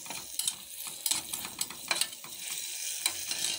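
Onions sautéed with cumin in a pan for Egyptian koshari, stirred with a utensil: soft steady sizzle under a run of sharp scraping, clinking strokes at an uneven rhythm, close up with no voices.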